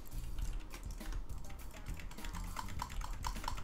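Computer keyboard keys are pressed in a steady flurry of soft, quick clicks, close up and fairly faint, set against a low, busy background hum.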